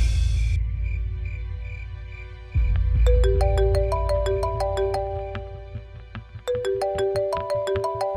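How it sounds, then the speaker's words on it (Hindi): A mobile phone ringtone plays in a home at night, a melodic electronic tune of repeating note runs that starts partway through, over a low rumble and faint tones at the beginning. "उठे, आपका फोन बज रहा है।"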